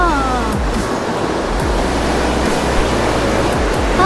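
Ocean surf rolling onto the beach at Red Bluff, a loud, continuous wash of breaking waves with no voices.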